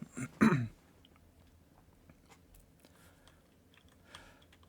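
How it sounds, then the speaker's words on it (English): Computer keyboard typing heard as faint, scattered key clicks behind a louder throat sound at the start, the taps sparse and quiet throughout. "Sorry, I can't type today."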